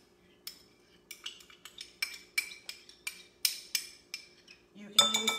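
Diced sweet vanilla onions are added to a bowl, with a run of quiet, distinct clinks and scrapes of a utensil against the dish, ending in a louder clatter.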